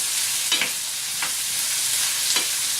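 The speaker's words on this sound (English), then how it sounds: "now we're just going to give this a little stir" Pepper cooking with jicama and onion in a skillet hisses steadily up close, while three distinct spatula strokes scrape through the sizzle.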